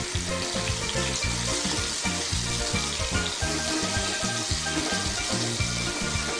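Green chili frying in a pan with a loud, dense continuous sizzle and crackle, steady throughout with no voices.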